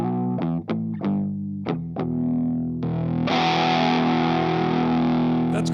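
A Gibson ES-339 electric guitar, both tone knobs turned almost fully down for a growly tone, plays a few plucked distorted notes, then rings out a thick, sustained, loud chord, with no talking.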